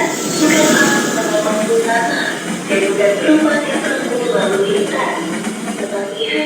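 The Jayakarta passenger train from Pasar Senen to Surabaya Gubeng rumbles past close by at a level crossing, its steady roar and rattling carriages filling the air without letting up.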